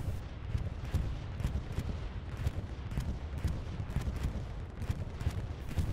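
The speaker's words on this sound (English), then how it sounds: "Got a bombing run or something coming in." Distant barrage of bombing-run explosions in a video game, a dense, rumbling string of booms and cracks rolling on without pause, with heavy low-end thuds beneath.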